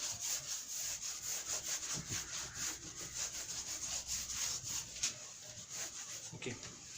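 Chalk or marker writing is rubbed off a board during a physics lesson on torque. The eraser makes steady, rhythmic scrubbing strokes close by, continuing for several seconds with no talk.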